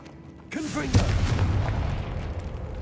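The Confringo blasting spell goes off in Hogwarts Legacy as a sudden deep boom with a crackling burst, followed by a rumbling roar that fades slowly, heard close and loud within the game's soundscape.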